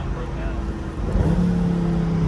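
A car engine revs through a rev-matched downshift, a steady droning note that climbs into a louder, rising rev partway through, heard from inside the car with some talk in the background.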